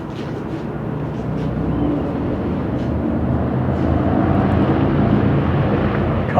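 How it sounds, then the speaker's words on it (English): Loud motorcycle passing near an outdoor film set, heard as a steady broadband engine rumble that swells slightly louder over several seconds, with no talking. "That motorcycle."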